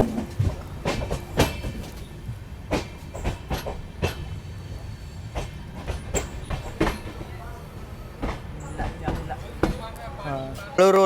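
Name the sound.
Matsyagandha Superfast Express train running on rails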